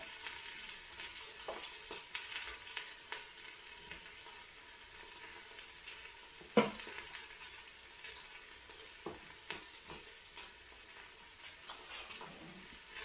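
Food sautés in a pan with a soft, continuous sizzle, broken by scattered clicks and taps of utensils and one sharper knock near the middle.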